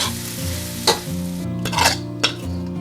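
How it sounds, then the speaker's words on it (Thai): Carrots and glass noodles stir-fried in a pan, a loud close sizzle broken by several quick stirring scrapes and spatula knocks. "เราก็ผัดให้แครอทของเราสุก"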